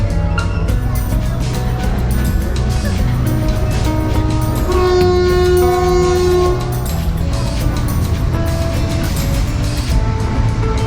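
The CALIPSO train runs along a railway through Sri Lanka's hill country, a steady loud rumble and clatter of wheels with a sustained horn toot partway through, and music or voices mixed in.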